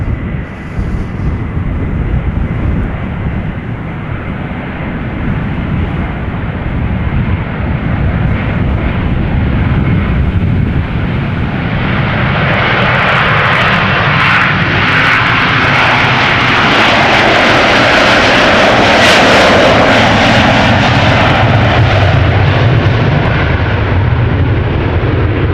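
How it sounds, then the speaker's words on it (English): KLM Airbus A330-300, ten years old, departing Amsterdam Schiphol for Atlanta: a loud jet engine roar that swells and grows harsher as the aircraft nears, peaking close by in the second half, with no voices. "This is KLM flight 623 going to Atlanta, Georgia, Airbus A330-300"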